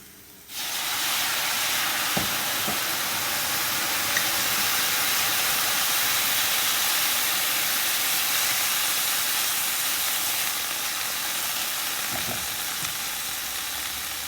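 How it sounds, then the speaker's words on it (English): Chardonnay white wine hits a hot pan for shrimp scampi and bursts into a loud, steady sizzling hiss that continues evenly, with a couple of faint clinks along the way and no talking. "And then we're going to put in some white wine. I'm using a Chardonnay here."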